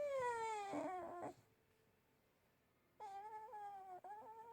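Alpha, the dog in the video game Persona 5 Royal, lets out high, wavering whimpers in two bursts separated by a quiet pause; no one talks.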